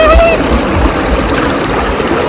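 Strong river current rushing hard enough to shake a wooden stick held in it, a loud, continuous turbulent roar of water with splashing close by.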